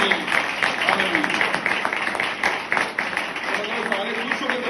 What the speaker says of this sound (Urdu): آپ کی تالیاں بتائیں گی کہ آپ خوش ہیں کہ نہیں